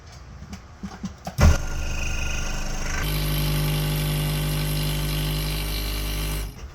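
A saw fitted with a number 7 Pegasus blade starts up and runs at a steady, loud mechanical hum while it slowly cuts poplar wood, then stops abruptly at the end.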